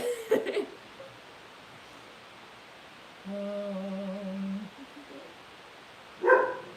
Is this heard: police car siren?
no